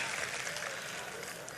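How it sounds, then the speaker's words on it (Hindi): Audience at a Mumbra mushaira poetry gathering claps in a dense, steady wash of applause, loud and close throughout the brief moment. "एक बार जोरदार तालियां बजाकर मुझे दुआओं से नवाजें।"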